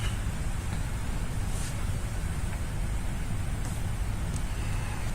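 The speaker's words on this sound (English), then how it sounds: "It's quite windy out here." Steady broadband wind rushing in through an open window, a constant low roar with faint gusty hiss, even and unbroken throughout.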